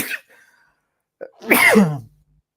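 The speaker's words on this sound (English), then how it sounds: "I need to sneeze." A single loud sneeze with a sharp intake before it, preceded by a short breathy sound and faint noise, then quiet.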